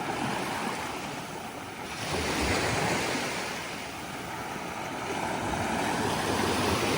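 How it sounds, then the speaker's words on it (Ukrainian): Black Sea waves wash in and roll back on a beach at Kurortne, in slow surges, a broad continuous roar with some wind noise and no talking. "Шуму моря вам."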